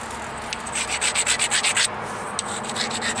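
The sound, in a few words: grinding flint edge while flintknapping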